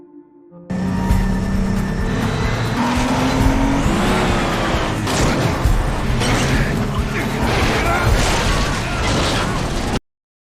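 A film car chase with engines roaring close and continuous, a sharp pop or impact partway through and tires straining, one vehicle forcing another to stop, dense layered action sound under brief voices.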